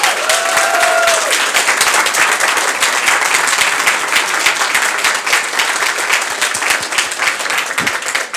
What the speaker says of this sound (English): Can we give one more round of applause for all 3 of them?